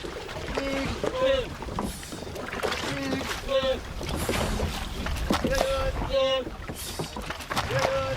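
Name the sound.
motorboat pulling fishing net in sea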